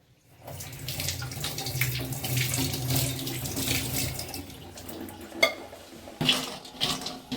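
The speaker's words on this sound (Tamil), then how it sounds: "இதப்பா நல்லா தோல் எடுத்துட்டு கழுவிக்கலாம்." Peeled bottle gourd rinsed under a running kitchen tap, a steady close splash of water with light clatters and taps of handling toward the end.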